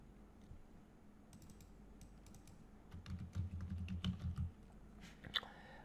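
Code being typed on a computer keyboard: a quiet run of key clicks, sparse at first, then a dense burst of rapid keystrokes, close and soft with no talking.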